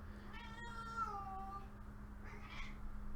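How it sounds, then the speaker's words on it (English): A house cat meows once in a drawn-out, falling tone, then gives a shorter second mew, both close and fairly soft over a steady low electrical hum. "that's my cat"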